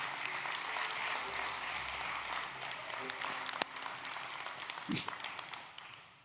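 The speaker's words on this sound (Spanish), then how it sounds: "Si va a darle un aplauso a Él, déselo fuerte." A church congregation applauds steadily and loudly in a large hall, a continuous wash of clapping from many hands that holds throughout with a few sharper knocks, then fades near the end.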